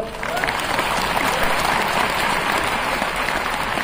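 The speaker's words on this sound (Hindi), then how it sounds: "जब जब समझ में आए ताली बजा दिया करो" Sustained applause from a large audience at an MI Lifestyle business program in Nagpur, a dense even roar of clapping hands filling the hall, steady and fairly loud throughout.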